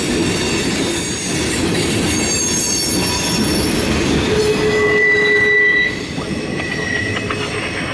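A CSX mixed freight train rolls steadily past at close range, a continuous heavy rumble of railcars with high-pitched wheel squeal rising above it midway through, no voices present.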